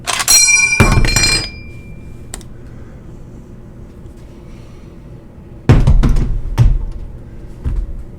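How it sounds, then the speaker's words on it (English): M1 Garand rifle firing its last round and ejecting the en-bloc clip from the internal magazine, heard as a sharp burst of clattering metal, a quiet pause, then a second cluster of metallic clanks and a final lighter clink. "here's a classic M1 Garand sound when the clip comes out of the internal magazine"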